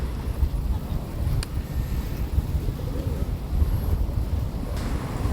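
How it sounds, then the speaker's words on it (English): Wind blows steadily across the microphone on Pattaya Beach in Thailand, a continuous low rumble with the surf likely underneath, moderately loud and with no one speaking. "It's a windy day"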